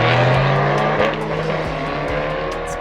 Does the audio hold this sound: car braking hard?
yes